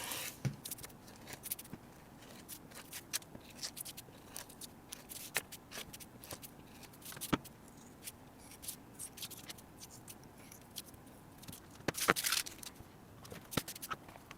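Scissors snip through alligator-print material for a handmade bifold wallet, a faint run of irregular cutting clicks and rustles at close range in a quiet room, no talk.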